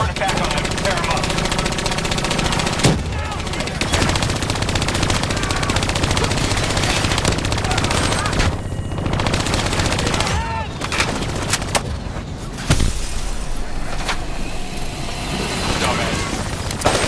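Dense, continuous turret gunfire and explosions in the Black Ops 3 shooter game during co-op play, loud and sustained with brief breaks, heavy low rumble beneath the rapid shots.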